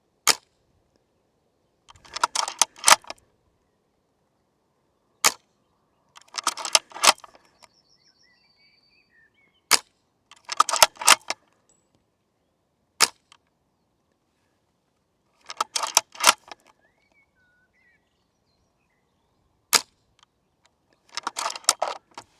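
A G&G No.4 Lee Enfield airsoft rifle fires single sharp shots at targets outdoors. Each crack is followed a couple of seconds later by a burst of rattling bolt-action clicks, in a steady cycle with silence between.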